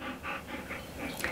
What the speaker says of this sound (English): That's some pretty heavy breathing, Chili.